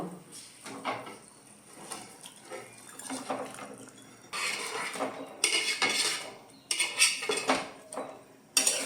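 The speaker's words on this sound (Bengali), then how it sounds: "এবার মাছগুলো দিয়ে দেব" Shankar fish (stingray) pieces go into a pan of spiced masala with little water, bringing bursts of broadband hiss and splashing in the second half after quieter clatter of metal utensils and pan scraping; no voices.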